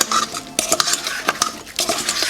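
Spoon mixing apple pie filling in a bowl, a busy run of wet scraping and clinking against the dish, close and fairly loud with no talking.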